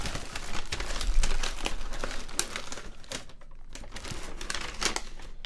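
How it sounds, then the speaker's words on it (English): Plastic wrap is peeled and torn off a Samsung Gear 360 box, producing close, quiet crinkling and crackling in irregular bursts with brief pauses. "Bit of a tear, which is a shame. But there we go, we unwrap it."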